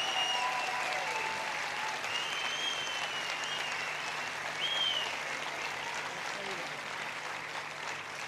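Steady, sustained audience applause at a Turkish televised panel show, dense and fairly loud throughout without pause.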